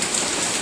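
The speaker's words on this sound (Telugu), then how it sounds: "అమ్మ ఐస్ గడ్డలు పడతా ఉంటే దానికి నువ్వు చూడు" Hailstones fall during a hailstorm at a home, making a dense, even hiss of hard impacts that stays steady and close throughout the short moment.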